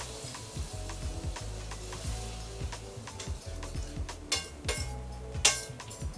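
Liquid hits a hot pan of garlic and chopped onions and sizzles steadily, with clicks and taps of stirring and a few sharper metallic clinks, all close and without talk.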